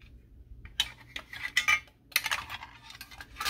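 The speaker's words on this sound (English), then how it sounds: "See, it's a ratchet too." A Halloween ratchet noisemaker gives a quick series of dry, rattling clicks in short bursts, close and fairly loud, with brief pauses between them.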